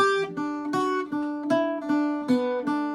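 A bright plucked Irish bouzouki melody moves through a short bar of notes at an even, lilting pace with a doubled metallic ring.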